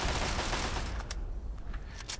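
Dense, continuous gunfire from the game Fallout 3, a steady rattle of overlapping shots with a few sharper bursts standing out, loud and close throughout with no voices.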